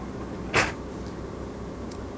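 A sliding door on the private toilet of a 2006 Country Coach Magna 630 motorhome, a single quick swish near the start, followed by quiet interior room tone.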